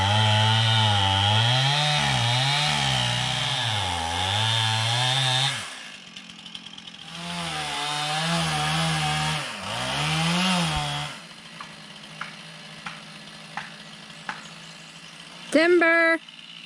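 A chainsaw fells a Douglas fir in the woods. The engine roars loudly in two long, wavering bursts, then drops away, leaving a few faint taps and a brief sharp sound near the end.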